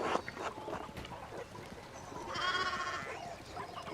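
Sheep bleating in the video game Pentiment: one drawn-out, wavering bleat rises midway over a steady bed of ambient game sound.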